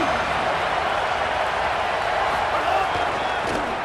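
Stadium crowd roaring steadily in the EA Sports College Football 27 video game, a dense, loud wash of cheering and noise building before a big third down, continuous throughout with no clear breaks.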